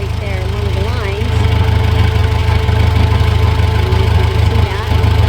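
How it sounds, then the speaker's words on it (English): A farm tractor with a leaking hydraulic line idles and runs with a loud, steady low rumble, hauling a large hay bale, continuous and close throughout. "Just using the tractor."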